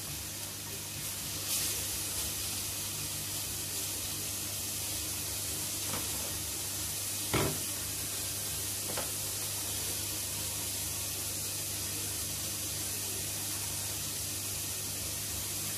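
Halloumi cheese frying in a pan gives a steady, even sizzle and hiss throughout, with a few faint pops and crackles and no talking.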